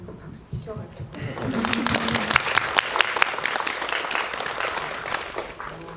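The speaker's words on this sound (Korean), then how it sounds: "앞에 분도 박수 치셔가지고" Audience applause at a Korean cinema Q&A screening talk event, a dense steady clapping that swells after the first second and holds loud and near, with a brief voice speaking at the start.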